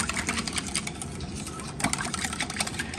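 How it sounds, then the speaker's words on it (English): Milk mixture with condensed milk being whisked briskly for strawberry horchata, a steady busy churning with scattered clinks, fairly close. "Now I am ready to whisk it really good"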